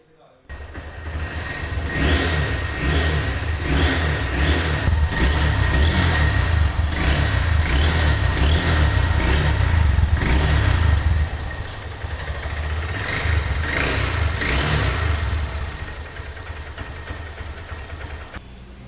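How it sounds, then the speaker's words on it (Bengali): A Honda Hornet 160cc motorcycle engine idles close by, then is revved repeatedly in short throttle bursts, drops back, and revs again before settling to a quieter idle. "বাইকটির সাউন্ড কোয়ালিটি আপনাদেরকে পিক আপ টেনে এবং ছেড়ে দিয়ে দেখালাম"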